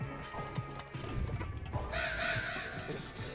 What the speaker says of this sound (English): Angry bird noises.